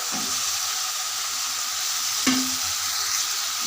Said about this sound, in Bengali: এটা আমি ভালো করে কষিয়ে নেব